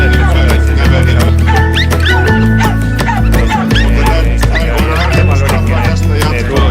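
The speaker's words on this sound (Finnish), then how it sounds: "se haukkuu tämän madallutuksen takana" A hunting dog barks during a hunting-dog trial, a loud run of repeated barks and yips close by over a steady outdoor background, with a voice speaking in between.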